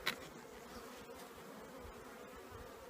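Honeybees hum in a dense, steady drone at an open hive of comb, nectar and pollen, the buzzing close and continuous with a brief louder swell at the start.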